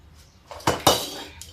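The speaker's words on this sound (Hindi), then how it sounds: "लीजिए कढ़ाई उतार लेते हैं।" A kadhai is lifted off the stove in a village kitchen, giving a couple of close metallic clanks and a brief scrape of metal on metal, with quiet room tone around it.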